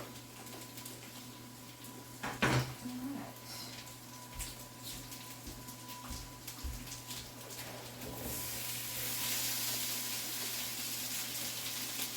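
Bacon sizzles in a pan, a soft, steady crackling hiss with a few faint clinks early on. The hiss swells louder and fuller over the last few seconds.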